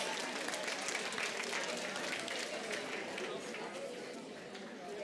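An audience at a public lecture on incivility and political dysfunction breaks into sustained applause, a thick, even roar of many hands that stays steady, with crowd murmur mixed in, before easing slightly toward the end.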